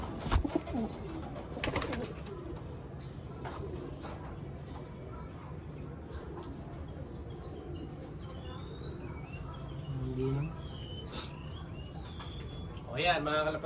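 Racing pigeons fitted with GPS trackers coo and flutter nearby, their soft calls scattered over a steady outdoor hum with faint insect chirping and some indistinct background voices.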